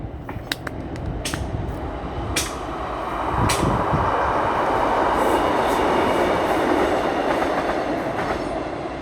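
A Class 150 diesel train passes through Newport station, starting with sharp metallic clicks and clanks over a low rumble, then swelling into a loud, sustained roar and rattle of wheels and carriages close by.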